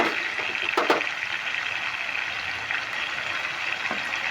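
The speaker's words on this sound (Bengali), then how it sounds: "আমি একটু উল্টিয়ে দিচ্ছি নিচের দিকটা ভালো করে ভেজে নিচ্ছি" Grapes fry in hot oil with a continuous, soft, sizzling hiss heard close up, broken by a few faint pops and crackles.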